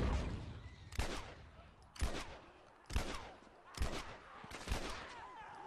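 Gunshots in The Last of Us: five sharp, evenly spaced reports roughly one second apart, each with a short echoing tail, fairly quiet overall.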